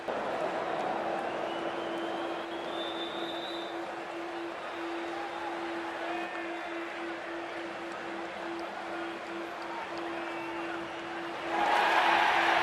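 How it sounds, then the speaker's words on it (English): A broad, steady roar of a large stadium crowd in the Cricket 24 video game, murmuring at a distance as players walk out, with a faint constant tone underneath and a brief swell near the end. "Oh, it's a loud crowd as the players make their way out."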